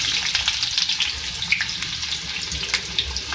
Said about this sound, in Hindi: इसके अंदर मैं एक बड़े साइज़ की प्याज ऐड करूँगी।